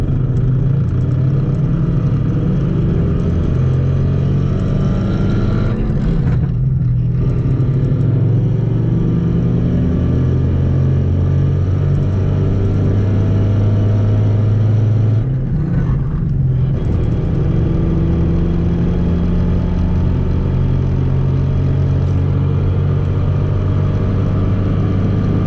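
A car with a BC Stage 3 transmission accelerates in first gear, its engine giving a steady, loud, droning rumble. Two brief dips sound like gear changes before the drone returns.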